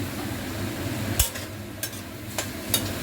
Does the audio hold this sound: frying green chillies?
yes